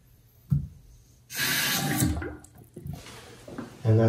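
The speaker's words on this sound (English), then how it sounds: "I'm going to turn the water back on." Water rushes in with a steady hissing flow after a brief knock, running for a couple of seconds before easing off, close by, with no talking.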